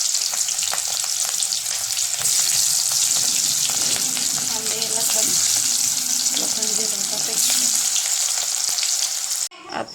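Cooked dal and spinach hit a hot pan and sizzle loudly and steadily, with light stirring scrapes mixed in, until the frying cuts off abruptly at the end.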